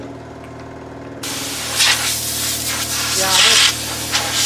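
Compressed air blows in hissing, uneven bursts near a backhoe during joint-greasing maintenance, with a quieter rumbling stretch first and a voice speaking briefly over the noise.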